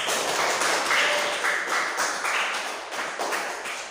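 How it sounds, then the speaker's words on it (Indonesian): Children clapping their hands together in a classroom, a fairly quiet run of rhythmic claps that rise and fall in loose bursts. "tepuk tangan buat kita semuanya"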